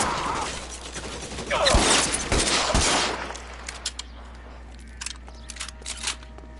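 A Tommy gun fires in the LA Noire video game, a loud, close burst of several rapid shots over roughly two seconds, followed by quieter scattered clicks and handling noises.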